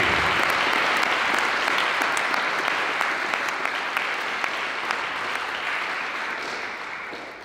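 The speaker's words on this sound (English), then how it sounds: "Please give a round of applause to Bob." A crowd at a Workers Party of Britain meeting claps steadily in sustained applause that gradually fades toward the end.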